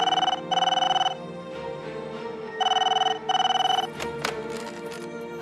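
A telephone rings in two short bursts, pauses, then rings in two more bursts, close and clear over a faint background hum.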